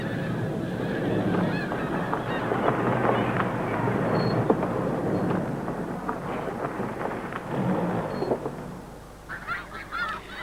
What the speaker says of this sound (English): About 200 snow and blue geese have been caught